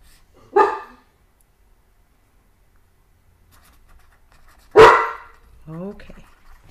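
A dog barks at night to be let outside, giving two sharp single barks several seconds apart in a quiet room, followed by a brief low whine or voice-like sound.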